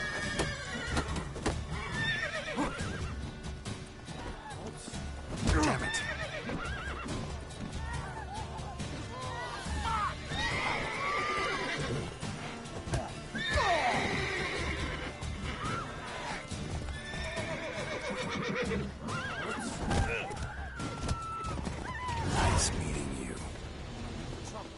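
Roach, the horse in The Witcher 3, neighs and whinnies loudly and repeatedly while hooves clop, with shouting and combat clatter mixed in and voices speaking over parts of it.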